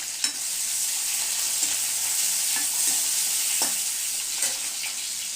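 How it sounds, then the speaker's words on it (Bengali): Onion, garlic, cumin seeds and dried and green chilies fry in a pan with a steady, dense hiss, broken by a few soft scrapes of a spatula. "আমি এটা ভালো করে ভেজে নেব।"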